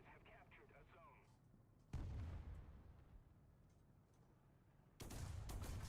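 Rapid autocannon bursts and heavy gunfire in the War Thunder tank battle, two loud barrages standing out over a rumbling battlefield bed, with a voice talking through the opening moments.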